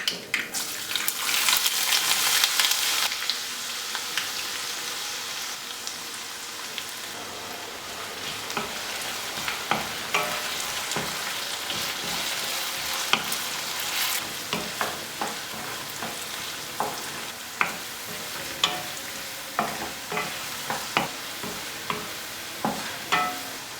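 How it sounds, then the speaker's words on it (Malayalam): Ginger, garlic, green chillies and curry leaves sauté in a pan for a Kerala pickle, a loud hiss at first settling into steady sizzling punctuated by repeated sharp clinks and scrapes of stirring. "ഇനി ഇതിലേക്ക് ഇഞ്ചി, വെളുത്തുള്ളി, പച്ചമുളക്, കറിവേപ്പില ഇതെല്ലാം കൂടെ ഇട്ടൊന്ന് വഴറ്റിയെടുക്കാം"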